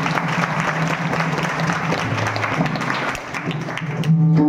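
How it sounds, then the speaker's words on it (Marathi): Sustained applause from an audience at a devotional kirtan gathering fills the clip as a dense, steady patter of hands, with a brief tonal voice or instrument note rising near the end. "एकदा जरा जोराने टाळ्या होत्या मनापासून"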